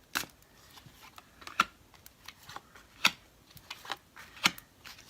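Tarot cards being shuffled close by, with a series of crisp, irregular riffling snaps and soft slides over a quiet background.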